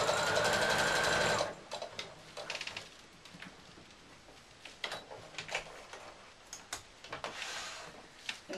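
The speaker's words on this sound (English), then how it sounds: "I'm going to top stitch on my sewing machine just to hold that together" A sewing machine top stitches a fabric dog-shaped draught excluder in a fast, steady whirring burst, then falls into sparse ticks and soft handling noises while the fabric is adjusted.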